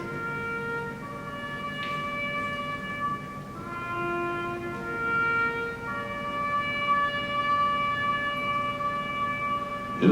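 A bugle plays Taps, the call composed by Dan Butterfield, as a slow sequence of long, sustained brass notes stepping between pitches, clear and moderately loud with no voices.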